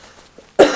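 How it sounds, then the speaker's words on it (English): One sharp, loud adult cough bursts out near the end after a near-silent pause, close to the microphone and not followed by any speech. "I have a really bad cough that just never wants to go away"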